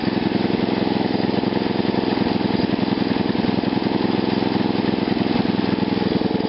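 Small engine fitted with a GEET reactor running steadily at a loud, constant rapid putter, like a lawn mower, holding one even pitch throughout with no talk.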